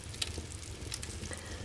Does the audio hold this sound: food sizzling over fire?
yes